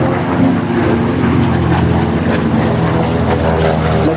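A B-25J Mitchell and a P-38 Lightning fly past at an air show, a loud, continuous droning roar of piston propeller engines throughout, close and full.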